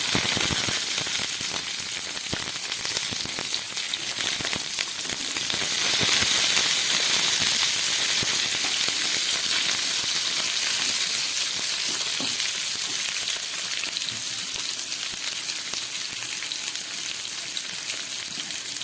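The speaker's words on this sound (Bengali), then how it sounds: "এবার দিয়ে দিচ্ছি কাঁচা টমেটো।" A mixed vegetable mustard curry with potatoes and raw tomatoes fries and sizzles in a pan. A loud, continuous crackle is heard up close, with stirring scrapes and clatter and no talking.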